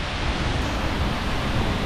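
Dense, steady roar of waterfall spray in Iceland in winter, a loud broadband wash with no distinct events, heard up close without any voices.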